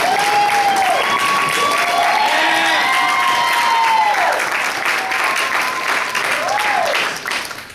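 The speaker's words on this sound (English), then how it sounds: "if we can please give a round of applause to right here at this table" Wedding guests give a round of warm, sustained applause filling the room, with a few cheers, while someone speaks over the clapping before it fades near the end.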